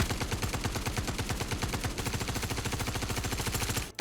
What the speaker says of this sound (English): if we just swap over to the AR, we will see that it should have a rate of fire increase